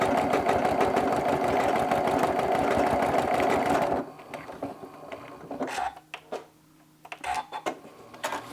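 A sewing machine runs fast and steady while stitching a quilted mug rug, a rapid mechanical stitching whir that stops abruptly, followed by a few clicks and handling noises.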